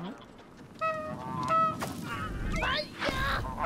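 Geese honk repeatedly in the video game Knights & Bikes, bright stacked calls in short bursts over a steady background, with someone talking briefly partway through.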